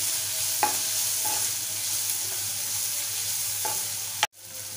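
A spoon stirs turmeric, Malvani masala and coriander through a gently sizzling pan for dal, giving a few scraping strokes over a steady fry before a sharp knock against the pan.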